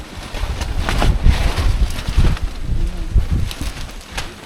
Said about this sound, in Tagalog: tapos ang lakas ng hangin dito, sobrang lakas guys